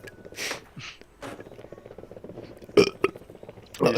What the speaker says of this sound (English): I can burp too.